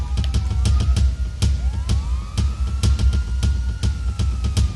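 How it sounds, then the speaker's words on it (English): A distant ambulance siren wails with rising and falling sweeps beneath loud, irregular knocks and thumps nearby. "Oh wow, there's your damn ambulance."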